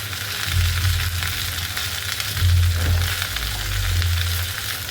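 Okra fries in a pan as it is stirred, a steady hissing sizzle with a few low surging scrapes as the pieces are turned.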